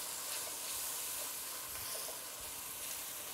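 Tomato, fenugreek and jalapeno chutney simmers in a pan, giving a steady, soft sizzling hiss with faint bubbling pops throughout, close and quiet, with no talking.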